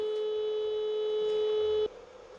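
A steady electronic PWM tone from a breadboard synth kit hums with a bright, buzzy edge, then cuts off abruptly, leaving faint background hiss.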